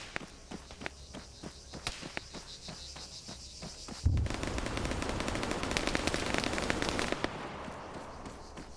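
Arma video game gunfire: sharp single shots crack at irregular intervals over a steady chirring insect ambience, then a dense loud roar of sustained firing and noise takes over for a few seconds before easing back down.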